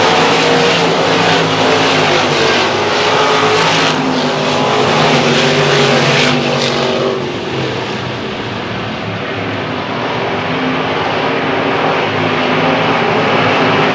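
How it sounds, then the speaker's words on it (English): Race cars roar around a track during a short-track race at Susky, a loud continuous engine drone that rises and eases as the field passes, with no talk heard. "Donnie Broderick comes back to the stripe to complete lap number 4."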